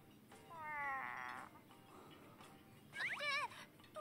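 A cat meows twice in the Princess Connect! Re:Dive video game: a drawn-out, wavering meow early on, then a second, higher and more insistent cry, both clear over a quiet background.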